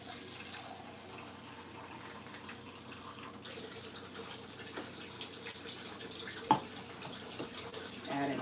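Water poured a little at a time into a bowl while mixing breakfast batter in a home kitchen, a soft, steady trickle under faint room noise, with one brief sharp clink near the end.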